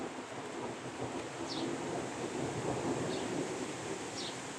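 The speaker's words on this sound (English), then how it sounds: "The rain has started to come down." Steady rain falls outdoors during a storm, a constant close hiss over a low rumbling wash that stays level throughout, with no voices.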